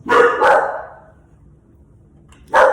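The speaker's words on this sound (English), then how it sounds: "Now my dogs are barking, all of them." Several pet dogs bark nearby in a home, with two quick loud barks, a pause and then another sharp bark.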